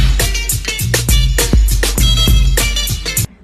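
A breakbeat remix of a drum sample pounds along: loud, dense drum hits with booming kicks, crisp snares and chopped rhythmic repeats, stopping abruptly at the end.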